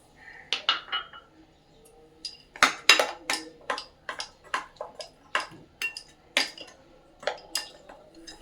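A whisk clinks against a bowl while beating semolina cake batter with refined oil: quick, sharp metallic taps in a steady rhythm, close and clear over a quiet background.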